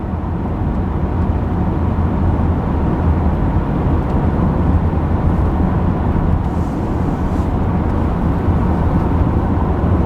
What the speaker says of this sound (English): I'm still pinching myself that I'm actually driving a car right now.